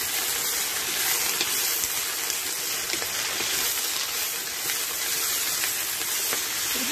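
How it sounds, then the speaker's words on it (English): Shredded cabbage stir-frying with salt in a hot pan for a vegetable curry, giving a steady, even sizzling hiss that stays constant throughout. "And just stir fry the cabbage"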